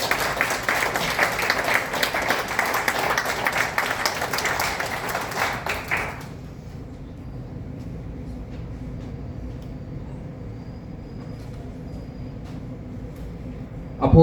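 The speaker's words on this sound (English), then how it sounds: "Ladies and gentlemen, please give a warm round of applause to Tina Chang." A festival audience greets a poet at a literature festival opening with a thick burst of clapping for about six seconds, then it stops abruptly, leaving a quiet room hum.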